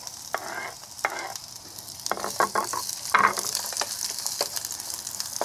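Garlic and onion sauté in hot oil in a small pan at an outdoor camp, a steady close sizzle punctuated by sharp scraping stirs and crackles.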